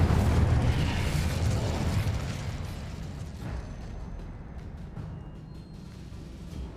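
An Incendio fire spell erupts in Hogwarts Legacy as a loud, close burst of flame, then trails off into a long rumbling roar that slowly fades over several seconds.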